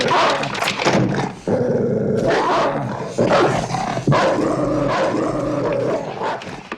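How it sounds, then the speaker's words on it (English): A friendly neighborhood dog barks and growls in a film scene, loud, close sounds in rough bursts mixed with other scene noise. "he heads home where he's greeted by the neighbor's friendly dog"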